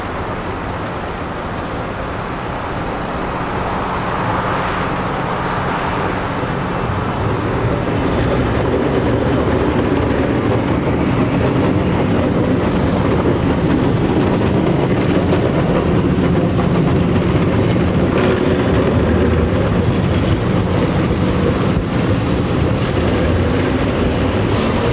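An MTV-82 tram rolls through Moscow streets with a loud, steady rumble and rattle of the car that builds slightly and holds throughout, with no talking.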